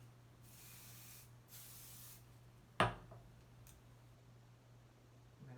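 Hairspray from an aerosol can misted onto hair while flat ironing, two short soft hisses in a quiet room with a low steady hum, followed by a sudden sharp clack.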